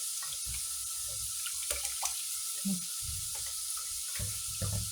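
Leeks rinsed under a running kitchen tap, a steady faint stream of water with soft splashes and thumps as the stalks are handled, close and quiet.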